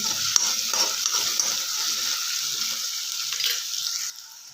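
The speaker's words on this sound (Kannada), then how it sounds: "ಈರುಳ್ಳಿ ಮೆತ್ತಗೆ ಹೋಗುವವರೆಗೆ ಒಂದು 2 ನಿಮಿಷ ಹುರ್ಕೊಳ್ಳೋಣ" Chopped onions sizzle steadily in a hot pan while a spoon stirs and scrapes through them, a close, continuous frying hiss for spinach palya that drops off sharply near the end.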